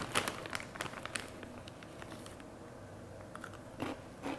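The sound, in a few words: biting into crunchy Takis Chilé Limón chips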